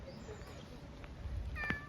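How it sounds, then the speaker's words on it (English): Cats meow on a street in Nara, Japan, a short faint mew rising over steady outdoor background noise near the end, with no talking. "Oh, I hear cats."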